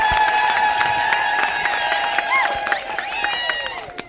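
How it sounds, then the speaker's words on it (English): A congregation at a Catholic vespers service claps hands in a steady rhythm under ongoing singing and music, the claps close and fairly loud throughout. "We clap hands."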